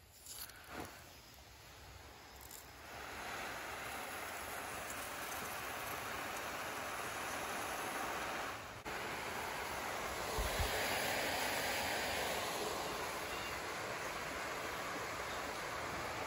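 A steady hiss of water spraying from a hose, continuous and even after a brief start, with no voices.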